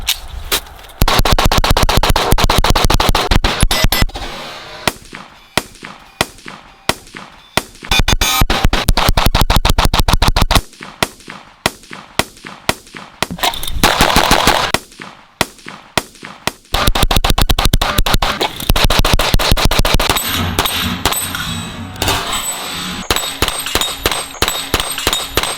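Fowler Vanta 9mm 2011 pistol fired with an extended magazine in rapid bursts, loud sharp metallic reports clustered in fast strings separated by short pauses, close and dominating without talk.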